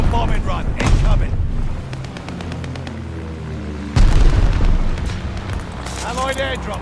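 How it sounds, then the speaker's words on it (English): Heavy explosions from a bombing run rumble and boom in the Call of Duty: Vanguard video game, loud with rolling low blasts and a sharp new burst midway, under game voices and shouted callouts. "Call the bombing run! Allies call the bombing run! Incoming!"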